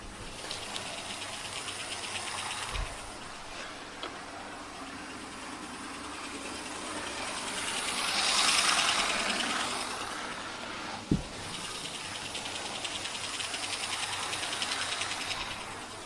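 Hornby LMS Fowler 42355 model locomotive running at full speed, a steady mechanical whir and hum that swells midway, with a sharp click near the end and no talk.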